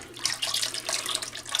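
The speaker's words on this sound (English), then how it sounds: "Just going to pour down the neck of the stick blender." Liquid lye solution being poured down the neck of a stick blender into cold process soap oils, a steady soft trickling and splashing stream with no talk.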